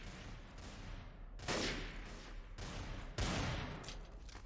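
Gunfire in the first-person shooter game Trouble in Terrorist Town: two sharp bursts of shots, a couple of seconds apart, over a faint background with no talking.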